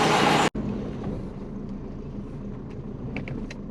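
Twin turbo Subaru Forester on the road, a steady low rumble of engine and road noise heard from inside after a loud burst at the start, with faint ticks over it.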